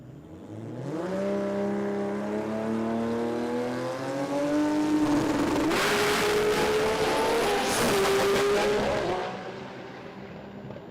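A Nissan GT-R R35 drag car launches and pulls hard down the strip, its engine note climbing steadily through the gears with loud, close, continuous revving that peaks near the end before cutting off.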